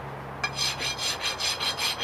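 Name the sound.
rasp filing soapstone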